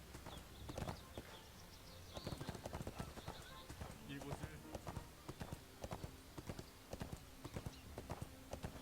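Horse hooves clip-clop steadily in the ArcheAge video game, a brisk rhythmic run of close, sharp hoofbeats over a busy game background, with talk in places.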